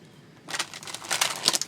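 Tarot cards being shuffled, a soft run of papery riffling and slapping that starts after a brief quiet and carries on close by to the end, with no talk over it.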